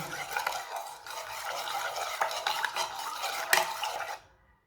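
Batter mixed with baking powder in a bowl for bread samosas, a close stir with a spoon scraping and clinking against the bowl's sides in a quick irregular rhythm, stopping abruptly near the end.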